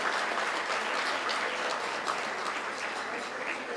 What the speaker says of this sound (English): Please, please, give him a round of applause.